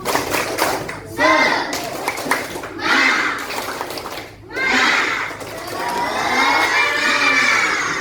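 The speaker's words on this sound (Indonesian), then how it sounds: "tepuk semangat" A classroom of children performs a rhythmic spirit clap chant, voices shouting in unison in repeated bursts with claps between them, loud and close.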